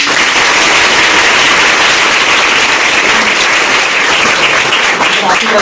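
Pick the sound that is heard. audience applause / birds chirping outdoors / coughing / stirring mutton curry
audience applause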